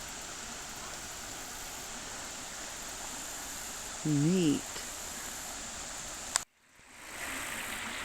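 Water flowing over Natural Falls in an Oklahoma state park makes a steady, even rushing hiss throughout, with a brief spoken remark partway through and a sudden bump and dropout near the end.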